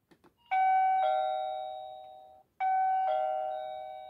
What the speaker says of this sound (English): when someone presses the doorbell